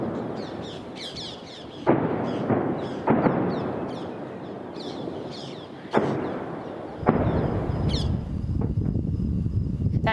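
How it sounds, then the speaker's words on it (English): Heavy artillery in Gaza booms overhead in repeated sharp, loud blasts roughly every couple of seconds, each thudding onset trailing into a rumbling wash of outdoor noise, with bird chirps in between. "We can hear the loud booms of artillery overhead."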